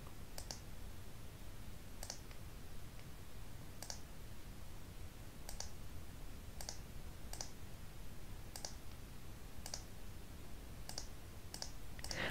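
Computer mouse clicks while using the pen tool in After Effects to draw a mask, sharp single clicks spaced about every one to two seconds over a low steady hum, close and alone without speech.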